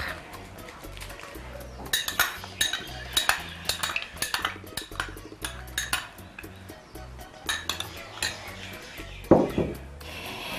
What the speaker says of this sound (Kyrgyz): Эми муну аралаштырабыз.